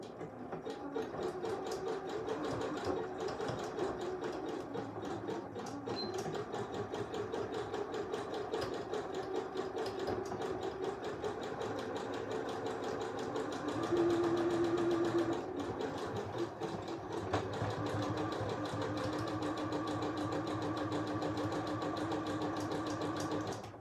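Sewing machine stitching a fabric face mask, a continuous close whirring hum of rapid needle strokes with a brief change in pitch midway and a short pause near the end.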